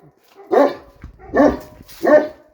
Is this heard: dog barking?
yes